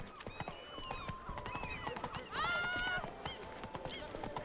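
Horse galloping in The Witcher 3, with steady clip-clop hoofbeats running throughout and a brief neigh midway, under game music and voices.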